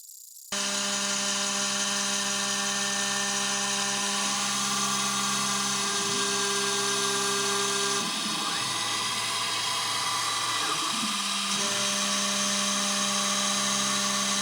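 A Makera Carvera Air desktop CNC mills a PCB with a 0.8 mm corn bit. The spindle gives a steady, loud high-pitched whine with shifting tonal hums as it bores holes and cuts the board out, with no talk.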